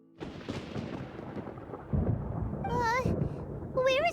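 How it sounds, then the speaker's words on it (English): Rumbling thunder rolls through a fantasy game storm, a broad low swell that grows louder partway in, with a child-like voice talking over it and brief whistling chirps near the end. "Paimon hears thunder!"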